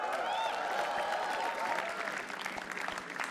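A comedy roast battle crowd claps to welcome comedian Kushagra Srivastava to the stage, a brisk burst of applause that fades a little partway through while a faint voice runs beneath it.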